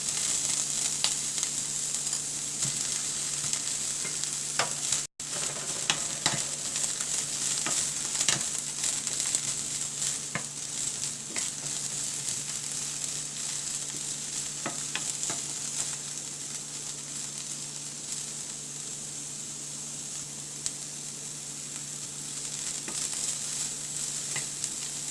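Broccoli sizzling in hot oil in a pan, a steady bright frying hiss with occasional scrapes and clicks of stirring, close and continuous with no talking.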